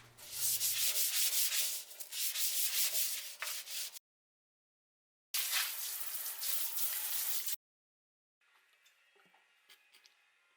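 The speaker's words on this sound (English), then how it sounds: "I like to fill the sink and give them a soak for a few minutes." Collard greens are rubbed and swished by hand in a sink filled with water, making close, bursty splashing and scrubbing sounds broken by short silences.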